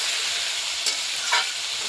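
Potatoes frying in oil with a spice tempering, a bright, close, continuous sizzle with a couple of brief stirring scrapes.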